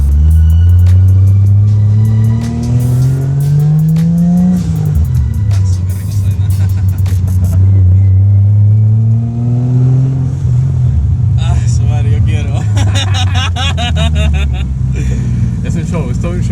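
A Toyota Supra MK2's 1JZ turbo engine revs up and down in loud, close sweeps with a steady idle between pulls, while people talk over it.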